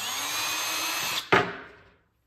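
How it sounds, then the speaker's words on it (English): A power drill whirs steadily while boring a pilot hole in a kitchen cabinet, then cuts off with a sharp jolt and a quick spin-down into silence, close by. "I'm going to pre-drill some holes just so we can get the screw started"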